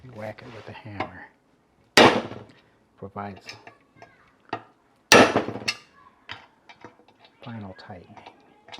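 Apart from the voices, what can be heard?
hammer whacking manual impact driver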